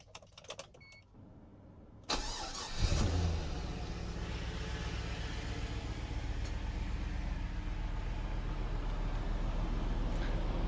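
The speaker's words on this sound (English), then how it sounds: "I'll start it up so you guys can hear how fucking quiet this thing is." An LS1 V8 in an HSV Senator cranks over and settles into a smooth, quiet idle that holds steady for several seconds, with a faint whir from the cooling fan.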